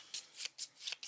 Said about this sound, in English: All right, so we're going to shuffle these.